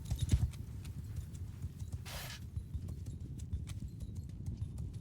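Horse hooves clip-clop steadily in Mount & Blade II: Bannerlord, moderately near amid battlefield ambience, with a brief burst of noise partway through.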